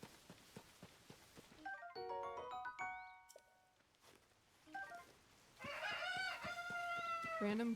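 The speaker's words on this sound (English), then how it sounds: "Random cuckoo just here." Cucco chicken from Zelda: Tears of the Kingdom clucks in short, bright chirping bursts, surfacing twice between stretches of game music and effects, fairly close and moderately loud.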